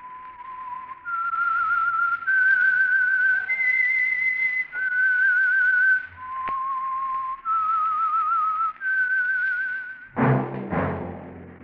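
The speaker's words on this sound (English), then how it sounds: "That whistle is your signal for the Signal Oil Program, The Whistler." Solo human whistling of the theme tune for The Whistler radio mystery program, a clear eerie melody of sustained held notes, close and alone, followed by a brief orchestral sting.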